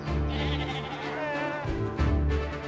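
Sheep on a Devon farm bleat repeatedly and loudly up close, several overlapping calls from the flock being gathered to go up to Dartmoor.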